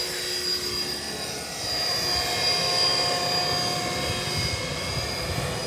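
A Blade 330S radio-controlled helicopter hovering and banking in wind, a steady, loud rotor and motor whine with a constant drone that persists unbroken throughout, close by, with no talk.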